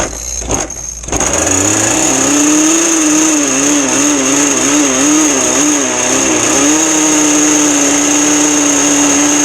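A ZippKits Super Sport motorized bicycle engine starts with a few sputters, then catches and runs steadily, loud and close, with a buzzing two-stroke drone whose pitch wavers up and down as the throttle varies.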